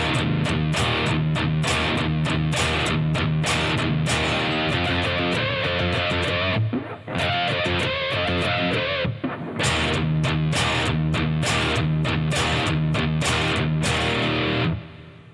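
Heavy distorted electric guitar playing the B section of a song, dense chugging chords with sharp accents, a short thinner break midway before the full riff returns, loud and continuous throughout.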